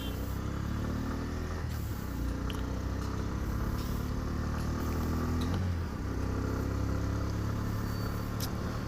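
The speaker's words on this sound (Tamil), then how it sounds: "நல்ல ஒரு ஸ்மூத்னஸான ஒரு ரைடிங்கில் ஸ்மூத்தாக போயிட்டுருக்கு பைக்கு" A Bajaj Pulsar N125 motorcycle, a 2025 125 cc model, cruises on a highway with a steady engine hum and heavy wind rush throughout, no talking.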